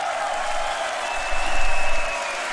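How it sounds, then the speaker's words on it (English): Audience applause and crowd noise at a beatbox battle, a steady wash of clapping that swells briefly in the middle, with a faint whistle carrying over it. "Give it up for Inertia"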